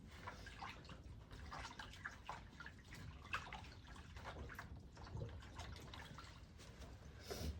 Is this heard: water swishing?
yes